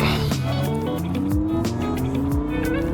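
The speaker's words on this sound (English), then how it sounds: "Oh, listen to that V10." A race car's V10 engine screams loudly and continuously on a racetrack warm-up lap, its pitch climbing smoothly as it accelerates, with brief tire squeals.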